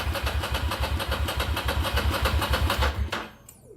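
A Ducati Monster cafe racer build motorcycle engine cranks and catches, firing in a rapid, lumpy rhythm at close range for about three seconds before cutting out abruptly into near quiet.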